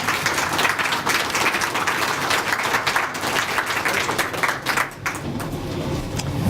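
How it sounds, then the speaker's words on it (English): Audience clapping for a speaker at a local historical society talk, a dense, close round of applause that holds steady for several seconds before thinning near the end. "Big round of applause for Gary Johnson."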